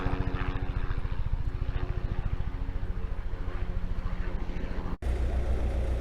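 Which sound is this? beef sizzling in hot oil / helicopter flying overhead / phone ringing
helicopter flying overhead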